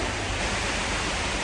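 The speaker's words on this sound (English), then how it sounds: "Started pouring." Rain pouring down hard, a loud, steady, unbroken hiss that fills the whole moment with no voices.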